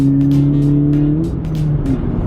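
Honda Civic Type R with a Hondata tune accelerating hard, heard from inside the car: a loud, steady engine drone with a rising tone, then a brief dip as it shifts.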